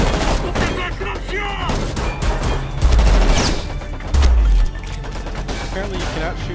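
Gunfire from the video game Homefront The Revolution, a dense fusillade of shots with heavy low booms, continuous and loud, with talk mixed in.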